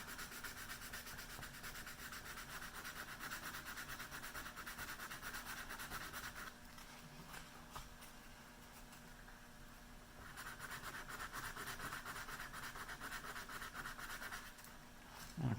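Close, steady back-and-forth rasp of sandpaper rubbed over a scratch in a wooden gun stock near a stippled border line. It pauses for a few seconds midway and then resumes, with no voices.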